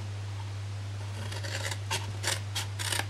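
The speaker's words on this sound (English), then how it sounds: "So we're going to start by cutting" Scissors cutting paper for a handmade gift box, a few quiet snips that grow into short rasping cuts toward the end, over a steady low electrical hum.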